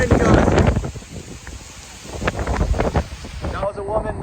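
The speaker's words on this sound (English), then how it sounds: "Major wind gusts." Strong wind gusts roar and buffet the microphone during a storm in Sullivan, Missouri, a loud broadband rush that surges and eases in waves while a person exclaims over it.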